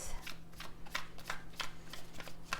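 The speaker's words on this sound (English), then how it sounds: "let's go ahead and just going to shuffle this a little bit" A deck of tarot cards is shuffled by hand, making a quick series of soft, close riffling slaps in a steady rhythm over a low electrical hum.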